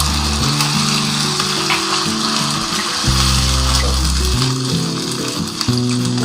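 Cumin seeds frying in a pan with browned onion and ginger-garlic paste: a loud, continuous sizzle and crackle, with a few clinks of stirring, over steady background music, no talk.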